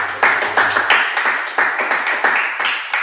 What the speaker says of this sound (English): Let's clap for this.